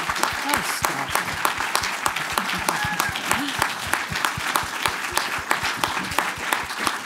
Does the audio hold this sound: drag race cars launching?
no